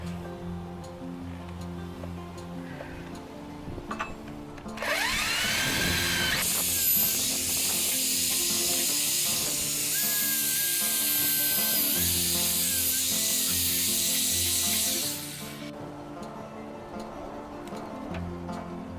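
A power drill with a long bit bores through deck wood, a loud steady whine lasting about ten seconds before stopping, with quieter outdoor ambience before and after.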